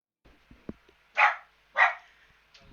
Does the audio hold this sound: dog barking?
yes